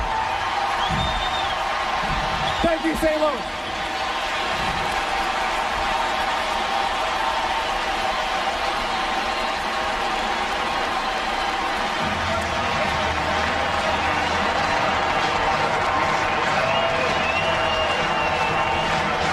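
Dense stadium crowd noise from Cardinals fans at a 1998 Cubs–Cardinals game in St. Louis, cheering and clapping for Sammy Sosa, a steady loud roar throughout with a brief spoken thanks over it.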